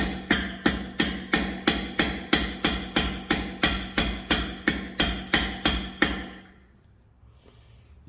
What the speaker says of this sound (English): just get you a nice hammer tap going